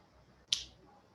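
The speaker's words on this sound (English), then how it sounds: "When I snap my fingers" A single crisp finger snap rings out close and clear, a short sharp crack against a quiet room background.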